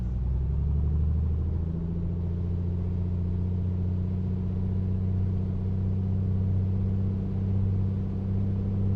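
Light aircraft piston engine at run-up, held at 2000 RPM in a flight simulator: a loud, steady droning hum with a firm low throb, holding constant after the revs settle early on.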